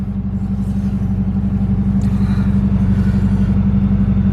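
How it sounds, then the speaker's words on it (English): A car drives along a California road, its steady engine drone and tyre rumble loud and constant throughout from inside the vehicle, with no voices. "So we are driving through it."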